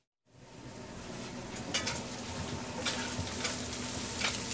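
Sausage sizzling in butter with onion in a pan starts abruptly and holds a loud, steady frying hiss, with a few brief crackling bursts and spits rising over it.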